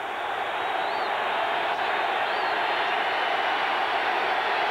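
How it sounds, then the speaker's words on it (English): A football crowd at Three Rivers Stadium during a 1989 Bengals–Steelers game keeps up a steady, distant roar, an even wall of noise with no breaks. "This crowd having some fun now at Three River Stadium."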